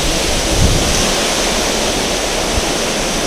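The River Dart flows at New Bridge on Dartmoor, a loud, continuous rush of water close to the microphone, with a couple of soft low bumps and no voices.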